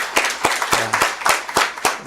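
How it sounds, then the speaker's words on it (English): An audience at a university regional workshop claps for the vice chancellor, a sparse ragged round of close handclaps at an uneven rhythm with no talk over it. "Another round of applause for our VC."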